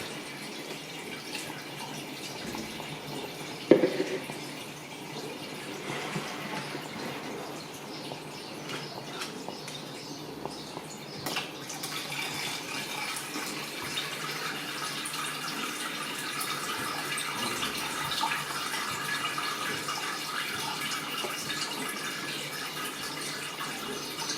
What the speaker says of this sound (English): I'll just let that drip through until it's all gone through